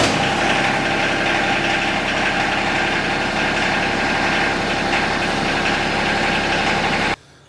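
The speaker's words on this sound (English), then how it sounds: "I'm gonna go ahead and fire it up, lift up the hydraulics and move them around a little bit." Diesel engine of a Yanmar SA425 compact tractor running steadily at idle, a loud, close, continuous rumble with a faint knocking throb, cutting off abruptly at the end.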